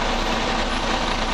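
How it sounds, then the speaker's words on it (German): An excavator engine running as the machine is driven down, a loud, steady low diesel rumble with no break across the short stretch. "Ich fahre den Bagger dann per Achse runter."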